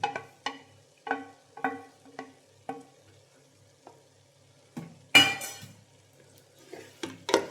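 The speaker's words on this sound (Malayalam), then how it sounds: "വീണ്ടും നന്നായി ഇളക്കുക" A spatula stirs salted, peppered scrambled egg into a cabbage stir-fry with green peas and cauliflower in a pan, giving rhythmic clinking scrapes, then a louder burst of sizzle and a few more scrapes.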